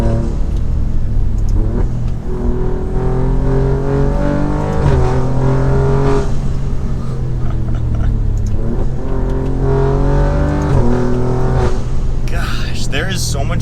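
A tuned 600 HP Alfa Romeo Giulia Quadrifoglio with turbos pulls hard from inside the cabin, its engine droning loud and steady as it climbs through gears, pitch rising and dropping at each shift.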